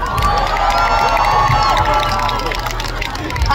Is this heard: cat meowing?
no